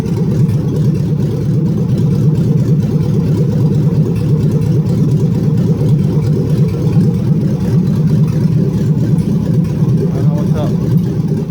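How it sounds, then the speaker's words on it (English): A freshly installed 6.2L L99 V8 in a 1974 Chevrolet Nova idles at its first start-up, a loud, close, steady low rumble holding evenly throughout. "It's idling nice."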